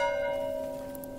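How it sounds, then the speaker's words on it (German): A church bell rings in the Manor Lords medieval village-building game, a single sustained toll with a long, steady, resonant decay that fades gradually, heard clearly on its own. "den Klang der Glocke bestimmen."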